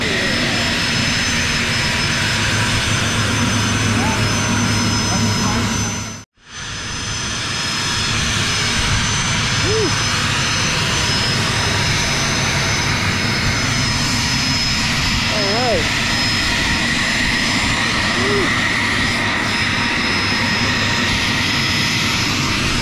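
A Piper Malibu airplane's engine drones loudly and steadily up close, with a brief sharp dropout early on and faint voices beneath the hum.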